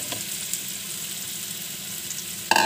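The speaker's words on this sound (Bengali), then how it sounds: "এবার যে আলু ফুলকপিটা ভেজে রেখেছিলাম সেটা ঢেলে দেবো।" Pre-fried potato and cauliflower tipped into a hot pan of fish curry masala, a steady close sizzle with a sharp burst of crackling at the end, no talking.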